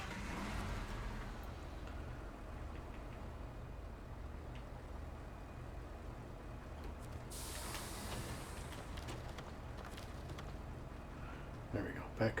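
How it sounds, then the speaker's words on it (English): A truck engine in the SnowRunner game starts and runs as a steady low drone throughout, with a hissing burst partway through and someone talking over it. "Gotta start the engine first."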